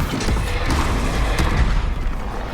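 Spell explosions in Hogwarts Legacy, a continuous roar of heavy booms and blasts, loud and dense throughout with no clear pauses.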